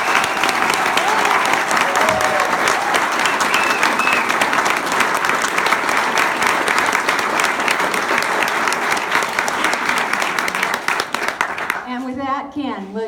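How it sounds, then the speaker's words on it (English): Sustained applause from an audience at a Democratic candidate forum in Great Falls, dense steady clapping filling the room for about twelve seconds before thinning out as a voice begins speaking. "right now, your applause and appreciation"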